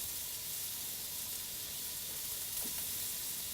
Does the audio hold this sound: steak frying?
yes